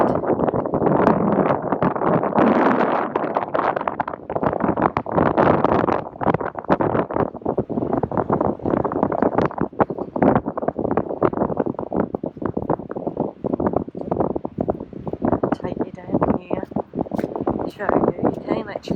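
Gusty wind buffets the microphone with a constant low rumble while a person talks over it, near Inverness on the Scottish North Coast 500 route.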